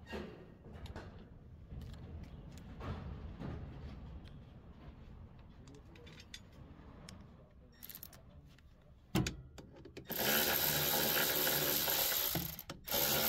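Hydraulic spinner motor on a chemical seed spreader being unbolted, with a steady ratcheting of a hand tool working the two motor bolts, clicking in quick runs and growing louder and denser near the end.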